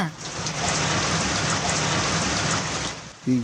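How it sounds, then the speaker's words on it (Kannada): Heavy, steady rain pouring down close by, a dense hiss that fades slightly at the end, where a voice briefly begins. "ಏನು ಮಳೆ ಇದು"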